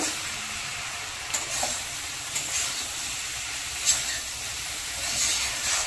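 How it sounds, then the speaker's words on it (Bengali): Prawns that were fried earlier sauté in a pan with pumpkin and potato, making a steady, soft sizzling hiss with a few faint clinks of a utensil. "দিয়ে দেবো আগে থেকে ভেজে রাখা চিংড়ি মাছগুলো। চিংড়ি মাছটা দেওয়ার পরে আরও 2-3 মিনিট ভালো করে কষে নেব।"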